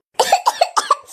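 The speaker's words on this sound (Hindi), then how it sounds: "देख बेटवा देख कितना खांसा थी" An elderly woman coughs in a rapid burst of about five or six hacking coughs in close succession, close and fairly loud, with nothing else around them.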